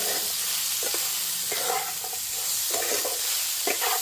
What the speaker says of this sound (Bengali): পেঁয়াজ আর রসুন এগুলো ভাজা হচ্ছে